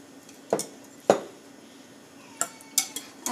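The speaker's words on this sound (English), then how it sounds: "So about 1/2 cup of oil that I'm going to whisk very nicely" A whisk knocks against a bowl while oil is whisked with coffee for chocolate cake batter, giving a few sharp, close clinks at uneven intervals and near quiet between them.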